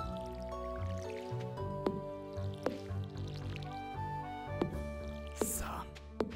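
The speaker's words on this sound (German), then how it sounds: "Deswegen gieße ich jetzt halt nur noch das, was effektiv noch da ist." Watering can watering crops in the Stardew Valley farming game, with short splashy drip effects repeating at intervals over game music, while a person talks.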